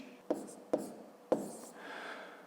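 Someone writes numbers by hand while working a fifth-grade math exercise: three quiet, scratchy pen strokes, each a short distinct scrape, with a softer rubbing trail at the end.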